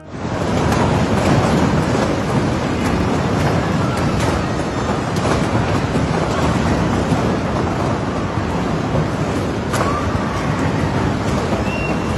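A severe hailstorm in Queensland drops large hailstones, up to about 11 centimetres across, producing a loud, dense, unbroken roar of impacts with occasional sharper cracks and thunder rumbles across the whole span.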